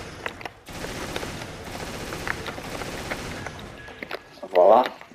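Magnum and shotgun fire in Resident Evil Revelations raid mode: a dense, steady run of rapid gunshots and game effects, ending in a louder, heavier blast near the end.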